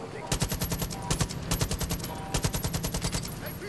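Close, loud automatic gunfire in Far Cry 5, with several rapid bursts of sharp shots running in quick, uneven rhythm through the whole stretch.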